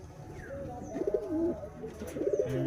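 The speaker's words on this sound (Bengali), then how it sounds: "এ হচ্ছে পায়রা।" Giribaz pigeons kept in pairs in a cage in a dim room give a few soft, rolling coos in two bursts, close by, with no talking.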